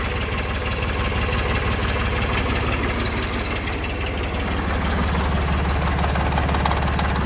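A Ford New Holland 445D tractor runs with a part engaged and spinning inside its cover, giving a loud, steady mechanical drone with a rapid knocking rhythm throughout.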